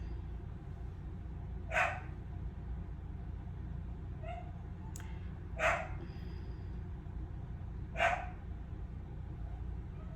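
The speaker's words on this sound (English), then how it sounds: "Why is he barking like that?" Three sharp dog barks spaced a few seconds apart, fairly distant, over a steady low rumble of background noise.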